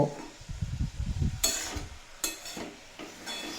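Cabbage frying in a pan for a cabbage ghonto dish, stirred in a few scraping passes that break up a steady close sizzle, with no talking.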